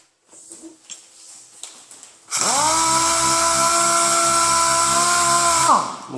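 A power sander fitted with an interface pad spins up abruptly and runs as a loud, steady high-pitched whine against a primed panel on a collision-damaged 2011 Ford Taurus, then winds down at the end after some quieter handling noise.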